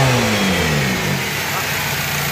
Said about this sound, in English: Floor the engine, please.